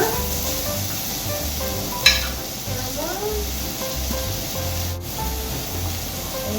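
Mushrooms frying in a pan with garlic for a tempeh steak: a continuous soft scraping and stirring over a low background hum, with one sharper scrape partway through.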